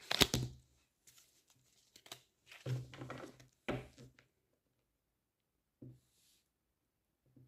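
Tarot cards are shuffled and drawn at a quiet table in short dry riffles and slaps, a few soft bursts separated by silence, with occasional faint handling sounds.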